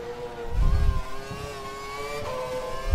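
An F1 car in the F1 2012 video game, on the Canada circuit, drives with a high, whining engine note that rises and dips through gear changes, under a low rumble and a few thumps.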